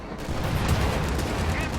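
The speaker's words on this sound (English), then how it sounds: "Su-85 gets destroyed right there by anti-tank gunfire from way in the back" Anti-tank guns fire from far behind the lines in a WWII real-time strategy game, destroying a Su-85; a dense, rumbling wash of distant gunfire and explosions runs steadily throughout, with no talk over it.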